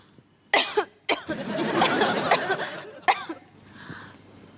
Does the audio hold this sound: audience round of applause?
no